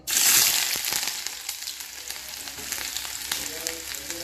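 Chopped onion dropped into hot oil in a pan for gobi manchurian, a loud burst of sizzling at first that settles into a steady crackling fry, with occasional clinks.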